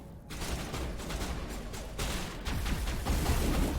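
Rapid weapon fire in Mass Effect Legendary Edition, a dense steady stream of close shots building slightly in loudness over a few seconds, with no talking.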